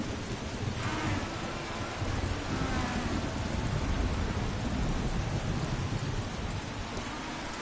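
Heavy rain falls steadily throughout a big thunderstorm, with low thunder rumbling beneath the downpour across most of the stretch.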